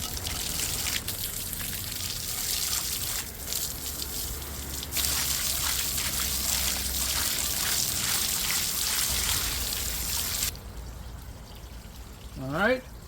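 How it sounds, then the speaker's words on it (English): A garden hose sprays water to rinse out a bird bath, a continuous splashing, pouring rush that shifts in intensity and cuts off near the end, followed by brief quieter sounds. "Now it's time to rinse with the garden hose."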